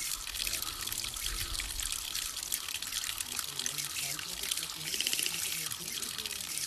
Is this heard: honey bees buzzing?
no